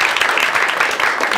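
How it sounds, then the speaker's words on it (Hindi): Brief burst of audience applause at a live comedy show, dense clapping filling the short moment at steady loudness with no talk over it. "तालियां हो जाए सॉल्यूशन में।"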